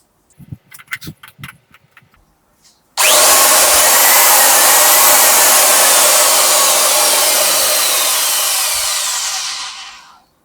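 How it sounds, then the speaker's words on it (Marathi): After a few light clicks and rattles, a loud, heavy electric wood-cutting saw motor roars to life and runs steadily up close, then winds down at the end. "तर मित्रांनो हे होते वूड कटिंगचं कटर मशीन"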